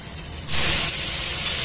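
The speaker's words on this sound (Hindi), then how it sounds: "इसको तेज आंच पर हम फ्राई करेंगे" Chicken pieces hitting hot oil in a pan over high heat for a simple chicken karahi, a steady loud sizzle that swells sharply about halfway through and holds, with no talking.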